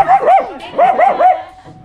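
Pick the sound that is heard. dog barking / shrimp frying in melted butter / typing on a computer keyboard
dog barking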